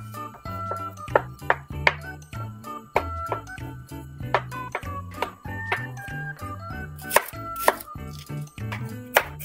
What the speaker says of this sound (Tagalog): I-slice lang muna natin itong tokwa.